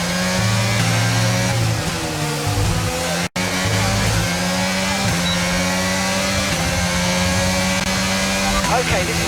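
Formula 1 race car engine in the F1 22 video game, worn and at risk of overheating late in a race, holding a loud steady high-pitched drone with shifting revs under a voice.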